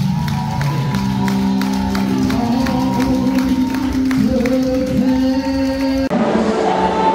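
Church congregation at a service cheering and applauding, a continuous crowd clamor with clapping and shouts, layered over sustained organ or keyboard tones that shift pitch, loud and steady before an abrupt change near the end.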